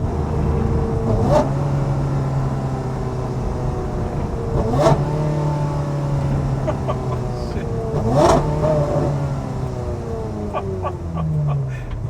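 A loud Ferrari Formula 1 car engine revs steadily and pitches down through quick downshifts, with sharp crackling pops between gear changes; sustained and close, without speech.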